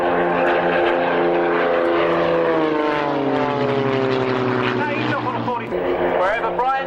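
An Extra 300 competition aerobatic aeroplane with a 300 hp Lycoming engine, flying at an airshow, gives a loud, steady propeller drone whose pitch sags as it passes, with a commentator's voice faintly underneath.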